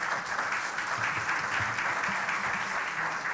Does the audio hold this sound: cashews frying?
no